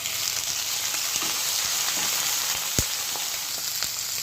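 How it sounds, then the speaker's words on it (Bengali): Tomato frying with onions in a pan for a spicy egg, potato and pointed gourd curry, giving a steady close sizzle with a few sharp pops and spatter crackles. "এবার টমেটোটা দিয়ে দিচ্ছি।"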